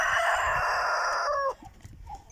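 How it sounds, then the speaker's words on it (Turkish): A hen gives a long, loud drawn-out call that breaks off abruptly, followed by a few softer clucks and rustling nearby. "Üzerinde tavuk yatıyor."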